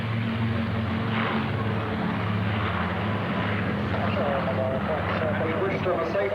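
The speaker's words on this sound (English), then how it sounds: "Intriguing looking machine passing us now, the Western Lysander." A Westland Lysander passes at an airshow, its propeller engine a steady loud drone throughout, with a commentator's voice over the public address underneath.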